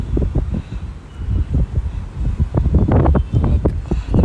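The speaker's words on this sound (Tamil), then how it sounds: "இந்த சென்னைக்கே ஒரு ஸ்பெஷலான ஒரு சீ ப்ரீஸ் இருக்குமே அது" Chennai sea breeze buffeting a microphone on a rooftop, producing loud, gusty rumbling wind noise in uneven bursts that swell and fade for the whole stretch.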